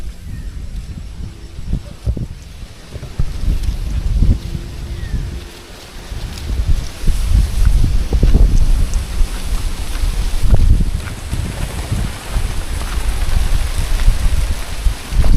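Gusty wind buffets the microphone in uneven low rumbles, rising and falling over a faint rustling outdoor background.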